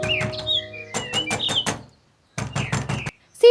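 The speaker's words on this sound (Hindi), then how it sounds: "तभी दरवाजे पर दस्तक होती है" Knocks on a door, several short bursts of raps in quick succession, fairly close, with a pause between groups and faint chirping in the background.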